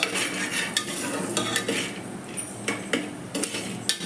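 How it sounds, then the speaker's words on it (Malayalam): Steady scraping and rattling of a spoon stirring popcorn kernels in a metal pressure cooker, with periodic clinks against the sides, no talk. "കുക്കറിനകത്തേക്ക് ഇട്ടിട്ട് പതുക്കെ ഒന്ന് ഇളക്കി കൊടുക്കുക കേട്ടോ"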